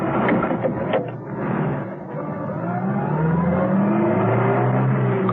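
A car engine starts and revs, then accelerates away down a driveway, loud and close with rising and falling engine tones over about five seconds, staged as an audio drama sound effect.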